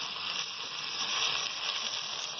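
Finely chopped medium tomato sizzling in a hot pan, a steady bright hiss of frying that holds at an even, moderate level with no talking.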